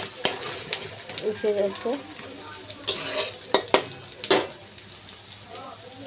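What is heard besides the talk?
onion frying in a pan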